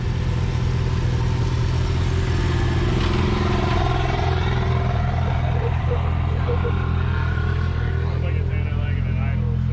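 Maverick R and Pro R side-by-side engines running together to warm up, a steady loud low rumble with rising revs throughout, people talking over it.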